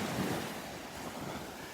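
Ocean surf breaks steadily on the Gulf shore at Delnor-Wiggins beach, a continuous loud wash of waves mixed with wind rumbling on the microphone, with no voices.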